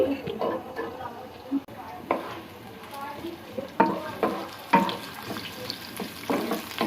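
Chopped onion frying in oil for muri ghonto, a low sizzle broken by repeated sharp scraping stirs and clatters of a utensil, close by and irregular, with some talking in the room.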